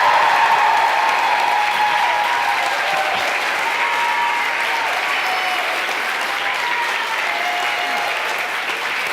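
A large audience cheers and applauds for astronaut Tim Peake during a live school link-up, dense continuous clapping with cheering that holds steady and loud, with a brief word spoken over it.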